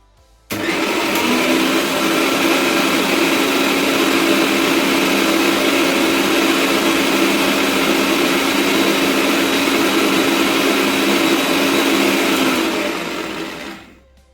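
A mixer grinder whirs loudly and steadily, grinding chaat masala spices for about thirteen seconds before spinning down to a stop.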